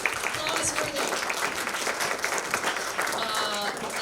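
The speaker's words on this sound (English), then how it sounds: "Yes, that's applause worthy." Audience at a live jazz tribute concert applauding steadily throughout, a dense wash of clapping in a hall with a voice speaking over it.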